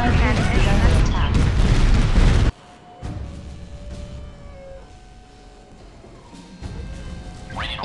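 Cannon fire and explosions in the strategy game Art of War 3: dense, loud booming and gunfire bursts, then quieter battle rumble with scattered blasts, while game voice announcements play.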